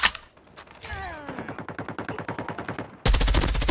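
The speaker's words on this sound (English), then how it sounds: "Sentry gun deployed." An automated sentry gun firing in Call of Duty Mobile: a steady, rapid stream of evenly spaced shots that builds after a short pause, then gives way to a louder, denser burst at the end.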